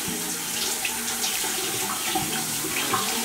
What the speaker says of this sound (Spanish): Así que vamos a meterla al agua.